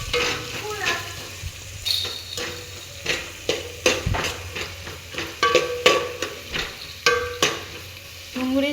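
Onions frying in a pan, with a steady sizzle and frequent scraping and clinking as a spoon or spatula stirs them against the metal in irregular strokes, close up, with little talk.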